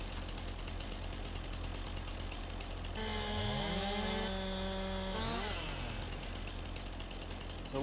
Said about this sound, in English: So we'll just cut all 3 of these down. That way we don't have to keep pulling the chainsaw back out.